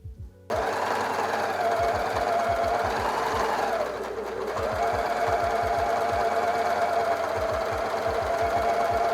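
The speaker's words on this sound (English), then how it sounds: "sew them together along the top edge" A sewing machine stitches a lining waistband to a skirt shell along the top edge, starting after a brief pause and running in a fast, steady whir with a short slowdown midway, loud and close.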